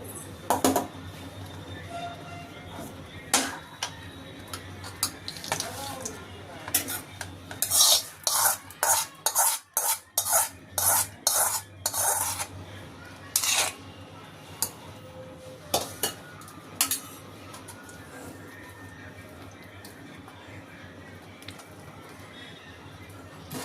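A spoon clinks and scrapes against a pot while cashews and raisins are stirred into sweet chakkara pongal. The strokes come in a quick rhythmic run of taps in the middle, with scattered single knocks before and after.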